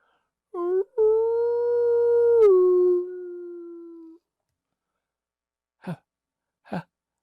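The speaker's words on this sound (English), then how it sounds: "a coyote howled in the distance." A single long, wavering coyote howl in the distance holds steady and then slides downward, followed by silence and two short, sharp yelps.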